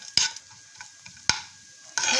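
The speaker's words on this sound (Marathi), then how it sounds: "हे काजू आणि बदाम जे आपण मिक्सरला फिरवून घेतले होते ना, ते मी थोडेसे असे तुपावरती तळून घेते" Coarsely ground cashews and almonds frying in ghee in a pan for makhana laddu, with a soft steady sizzle, two sharp utensil clinks or scrapes early on, and a louder burst of sizzling stirring at the end.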